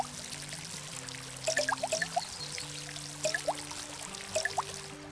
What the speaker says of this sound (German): Das ist ein sehr effizientes Gießen hier bei den Erdbeeren.